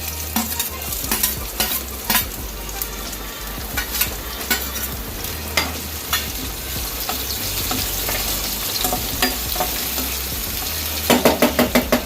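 Steady loud sizzling of tomato frying in a pan for sabudana khichdi, with frequent stirring scrapes and clinks throughout, no voices.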